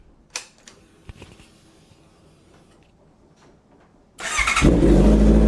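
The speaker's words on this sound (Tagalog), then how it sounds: "So karon mga guys, mag sound check ta sa CB650 nako." A Honda CB650R motorcycle engine starts after a few quiet clicks and handling noises, then settles into a loud, close, steady exhaust idle for the final second or so.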